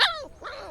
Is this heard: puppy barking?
yes